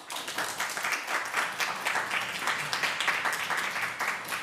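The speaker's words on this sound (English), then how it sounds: "can we all give her a massive round of applause?" A live event audience claps warmly after a guest speaker at an evening talk, a fairly soft, continuous patter of many hands rising and falling slightly, heard alone without voices.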